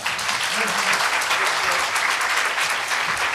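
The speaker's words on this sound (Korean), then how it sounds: "모두 뜨거운 박수로 환영해 주시기 바랍니다." Audience applause greets panel guests being introduced at a business and IT forum, a dense, steady wash of clapping that holds at full strength throughout with some faint background voices mixed in.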